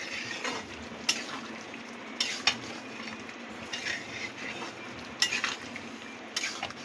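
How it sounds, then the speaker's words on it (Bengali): Potato and pointed gourd curry being stirred in a pan, with a soft continuous scraping and several sharp utensil clacks against the metal, fairly quiet and close, with no voices. "ভালো করে মিশিয়ে দিচ্ছি।"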